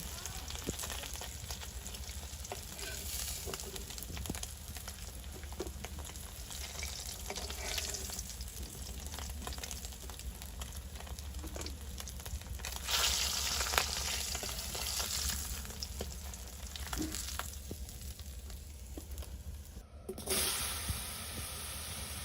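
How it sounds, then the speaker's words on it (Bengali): Fish fry in oil in an outdoor village kitchen, a continuous close crackling sizzle with bursts of louder spitting and occasional faint stirring scrapes, steady for over twenty seconds with no voices. "মাছগুলো বেশি কড়া ভাজি করবো না, মিডিয়াম ভাজি হয়ে আসলে মাছগুলো নিয়ে নিব"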